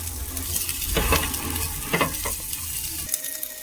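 Onions frying in oil in a pan for a fish sambar, a steady close sizzle broken by a few louder stirring scrapes, with no voices.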